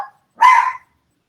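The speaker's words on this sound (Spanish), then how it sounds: "los perros están ladrando" A single dog bark, one loud close yelp of under half a second after a brief faint sound, then silence.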